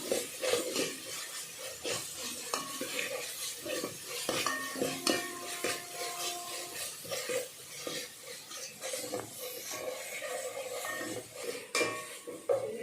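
Ginger garlic paste fries in oil for a chicken curry while a utensil stirs it steadily, with scraping and clinks against the pan over a constant close sizzle for the whole stretch.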